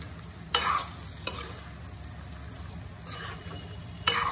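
Meat frying in a pan for a kitchen cooking session, with a steady low sizzle and four sharp stirring scrapes of a spatula at uneven intervals, close by and with no talk.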